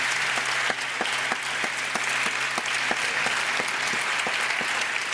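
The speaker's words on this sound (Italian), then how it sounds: "Facciamolo l'applauso a Lucio Dalla." A concert audience applauds in honour of Lucio Dalla, a steady wash of many hands clapping, with a sustained hum in the background and a few sharper claps standing out.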